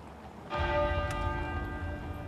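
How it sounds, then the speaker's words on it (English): A single deep, resonant stroke of the great tenor bell at Westminster Abbey, tolling at a state funeral in London, rings out loud and close with a long, ringing hum that lingers after the strike. "the great tenor bell at Westminster Abbey began to toll"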